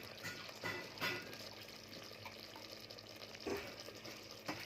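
Tamarind water pours steadily into a pot of fish curry close by, a continuous splashing gurgle with a faint sizzle beneath.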